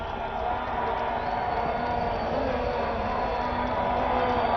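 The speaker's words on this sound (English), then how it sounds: "With that single loud cheer, 50 for Masakadza." A cricket stadium crowd at an India versus Zimbabwe final cheers a batsman reaching fifty, a sustained, distant, roaring wash of noise that holds steady throughout.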